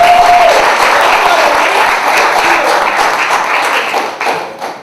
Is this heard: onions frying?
no